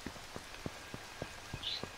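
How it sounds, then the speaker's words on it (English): Steady rain falls in the survival game H1Z1, a soft continuous patter with scattered heavier drop taps, faint and even throughout with no voices. "So it rains now"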